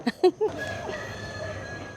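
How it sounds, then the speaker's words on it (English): A few short, loud clucking calls from a rooster nearby, three quick bursts at the start, then a quieter outdoor background at a resort in Ubud, Bali. "With the rooster too."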